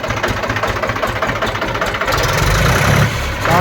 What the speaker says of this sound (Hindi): ये भी मैं आपको ट्रैक्टर स्टार्ट करा के दिखाता हूँ।